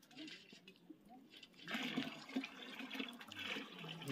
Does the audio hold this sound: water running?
yes